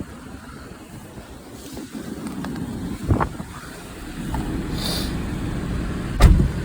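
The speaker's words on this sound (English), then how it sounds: "Car is currently running because it is bitter cold here today." A steady low engine rumble from a 2004 Porsche 986 Boxster idling on a bitterly cold day, with a couple of brief clicks and thumps rising above it.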